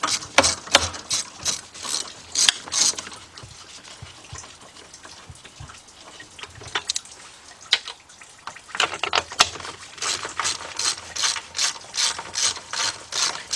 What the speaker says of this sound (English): So let's get both of these bolts out.